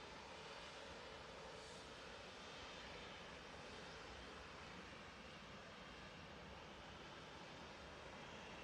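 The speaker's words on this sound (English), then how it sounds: "there is the Wamos coming in from New York JFK on behalf of Virgin Atlantic" A Wamos Air airliner on approach into Manchester Airport from New York JFK, flying for Virgin Atlantic, gives a faint, distant, steady jet roar that holds level throughout.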